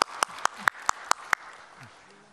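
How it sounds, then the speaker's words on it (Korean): Six sharp, evenly spaced claps ring out close by at a formal event before the president, then a quiet tail with faint voice-like murmurs. "박수 한번 보내주십시오"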